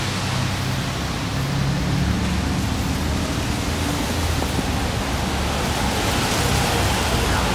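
Steady rain falls across a downtown Orlando street, a dense, continuous hiss with low traffic rumble beneath, constant in level throughout and with no talking.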